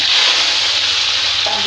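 Potatoes frying in very hot oil on a low flame give a continuous, dense sizzle, loud and close, with a faint stirring scrape near the end.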